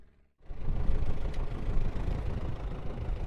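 MTZ-82 tractor engine running at idle, a steady low rumble with a loud, rough broadband chug that starts abruptly after a brief silence and holds close and constant.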